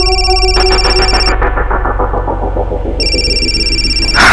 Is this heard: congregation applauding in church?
no